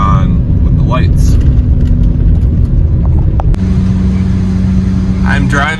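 An old, worn-out car with a leaky roof is driving, its steady mid-pitched engine rumble and road noise loud and constant throughout, with a brief click partway through.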